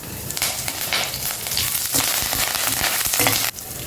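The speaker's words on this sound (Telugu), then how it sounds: "ఇప్పుడు కొంచెం కరివేపాకు వేసేయండి" Mustard seeds, cumin and curry leaves frying in hot oil, a loud crackling sizzle with sputtering pops throughout and no speech.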